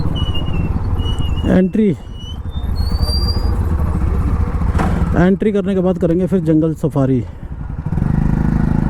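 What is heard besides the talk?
Hero Xtreme 125R motorcycle engine while riding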